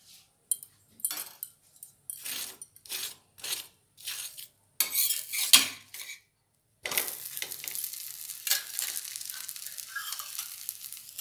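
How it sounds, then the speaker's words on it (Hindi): A mooli paratha gets flipped on a hot pan and brushed with oil, with a run of short scraping and tapping sounds followed by a longer, steady sizzle, close and moderately loud. "ये वाला पराठा तब तक हम पलट कर इस तरह से इस पर तेल लगा देंगे।"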